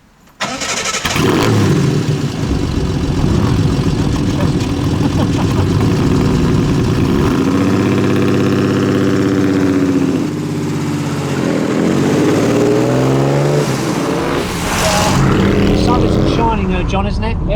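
A Ford Mk1 Capri Crayford 3-litre GT, a rare convertible, starts up and drives, its engine a loud steady drone that rises and falls through gear changes, with voices talking over it.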